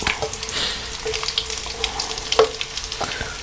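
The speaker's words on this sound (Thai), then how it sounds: "เราจะทอดปลาก่อนนะครับเอาปลาใส่นะครับ" Fish frying in oil, with a steady close sizzle, a few light utensil clicks and small splashes over the bubbling.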